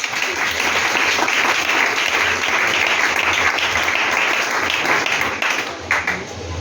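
A church congregation bursts into sustained, dense applause that stays loud and even before tapering off near the end, with a faint voice underneath.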